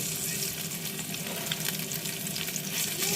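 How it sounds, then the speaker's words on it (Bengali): Shol (snakehead) fish fries in hot oil in a pan, a dense continuous sizzle and crackle close up, steady and unbroken. "মাছ ভাজি হয়ে গেছে"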